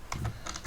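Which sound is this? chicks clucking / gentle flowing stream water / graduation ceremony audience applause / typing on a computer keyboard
typing on a computer keyboard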